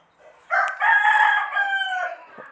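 A rooster crows once nearby, a loud drawn-out cock-a-doodle-doo lasting about a second and a half against a quiet background.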